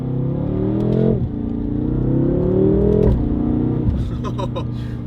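BMW F10 M5 engine with a Valvetronic Designs exhaust revving, three rising pulls of loud throaty roar each dropping off sharply, ending in crackling pops on the lift-off, close and dominant.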